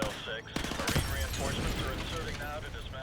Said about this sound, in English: if you shoot any of these barrels, you die. It will all explode.